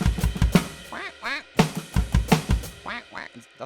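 A person vocally imitates a duck, giving a run of nasal, rasping quacks in short bursts mixed with spoken syllables, close and fairly loud.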